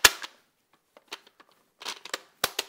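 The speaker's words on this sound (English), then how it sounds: "I'm just going to insert the mag." A loaded magazine goes into a rifle: a sharp metallic click opens the clip, then scattered small clacks and rattles of handling, ending in two firm snaps.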